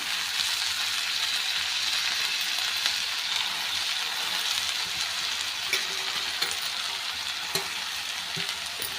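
Fenugreek leaves dropped into hot oil with green chili and garlic, a dense, even sizzle running throughout with occasional small ticks and pops, close and without speech.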